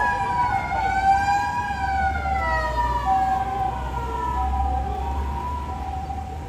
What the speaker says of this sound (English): 2 ambulances.